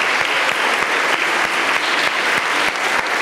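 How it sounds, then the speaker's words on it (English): A church audience at a Christmas presentation applauds Sunday school teachers, with loud, sustained clapping from a crowd filling the room without a break. "can you stand up as well so we can applaud you?"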